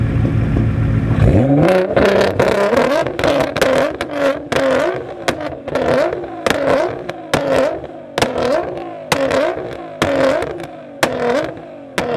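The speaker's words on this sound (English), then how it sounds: "downpipe and full Valvetronic titanium exhaust" A BMW F80 M3's engine revs hard again and again, its downpipe and valved titanium exhaust roaring raspily up and dropping back in repeated bursts with crackling pops between them.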